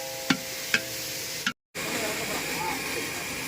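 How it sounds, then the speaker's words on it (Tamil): Goat fat sautés in a pan, a steady close sizzle with a few sharp clinks of a utensil, then a brief cut before the frying hiss carries on. "இப்போ வந்து கொழுப்பு நல்லா வதங்கிருச்சு."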